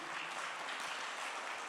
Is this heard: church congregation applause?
yes